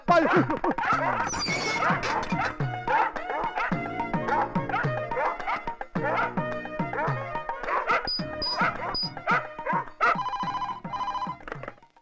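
A dog barks repeatedly in short yaps and whimpers, mixed with a ringing phone tone and musical chimes that run throughout.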